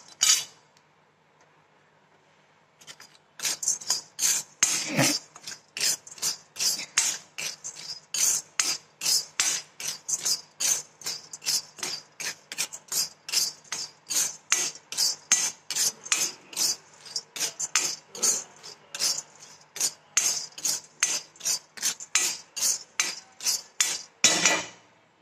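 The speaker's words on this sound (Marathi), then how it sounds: "एकसारखी हलवायची, हाय फ्लेम जरी असली तरी एकसारखी हलवायची, खमंग भाजायची" Dal dry-roasted without oil over a high flame, stirred in a pan: fast, rhythmic, rasping scrapes of a spoon against the metal, close and crisp, repeating steadily for over twenty seconds after a short quiet start, with no talking.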